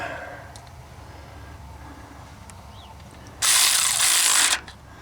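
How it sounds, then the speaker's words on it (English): An AC Delco 12V electric ratchet wrench tightens a bolt with a six-point socket, giving one loud, buzzing mechanical whir lasting about a second after a quiet pause, close to the listener. "Alright, let's try tightening it up."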